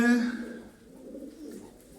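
Pigeons coo softly in a short low call, with a brief chirp at the start and a faint voice nearby.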